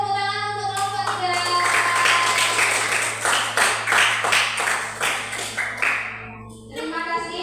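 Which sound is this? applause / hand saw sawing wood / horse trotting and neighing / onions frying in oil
applause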